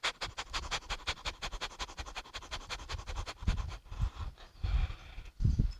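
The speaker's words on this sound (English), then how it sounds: "Start the breath of fire." Breath of fire, rapid rhythmic yoga breathing done while kicking one leg back, a fast steady train of sharp nasal puffs, close and clear, giving way to a few heavier exhales near the end.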